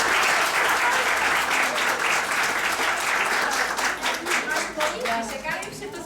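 An audience at a junior school performance claps in a dense, sustained round of applause that tapers slightly toward the end, with voices faintly mixed in.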